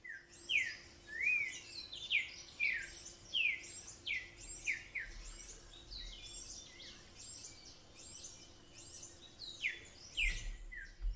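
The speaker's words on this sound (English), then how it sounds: "I'd say our cocks of the rock weren't doing so well since we haven't seen a single female, but that doesn't seem to stop them from displaying." Andean cock-of-the-rock males call at a display lek in Jardín, Colombia, giving a repeated series of sharp, rising squawk-like notes, several in quick succession, moderately close over a faint steady hum and low rustle.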